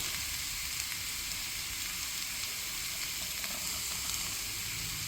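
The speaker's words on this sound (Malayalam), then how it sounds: "ബീൻസ് ഒന്ന് വഴറ്റിയിട്ട് തോരൻ വെച്ച് കഴിഞ്ഞാൽ നല്ലതായിരിക്കും" Green beans sizzle and fry steadily in a pan for a bean stir-fry, a continuous close hiss with no talk.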